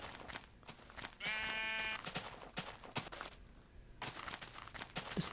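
A Minecraft sheep bleats once in a clear harmonic burst near the middle, set among scattered footsteps and small game noises, with no talking.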